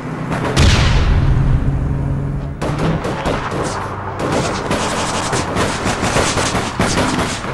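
An explosion and gunfire in the online shooter APB Reloaded: a loud booming blast opens, then sharp, rapid gunshot bursts crackle in irregular volleys close by, with no speech over them.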